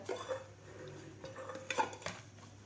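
A steel cake tin being greased with oil gives light metallic scrapes and small clinks, intermittent and close, with a few sharper taps near the end.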